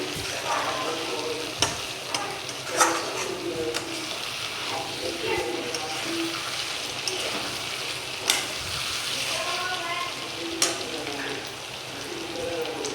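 Duck meat and potatoes fry in a pan with continuous sizzling, occasional stirring clatters and faint background sounds.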